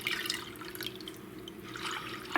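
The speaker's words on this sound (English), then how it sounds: "So let's pour in our lemon juice" Lemon juice is poured into cooled water while making Italian lemon ice, giving a soft, quiet trickle and light dripping that runs steadily under faint background hum.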